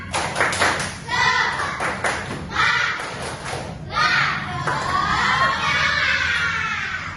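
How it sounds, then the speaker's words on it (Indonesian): Children clap together in a quick rhythmic pattern amid shouting and excited voices, loud and close, with bursts of group chanting between the claps. "Tepuk semangat dulu yuk. Tepuk semangat."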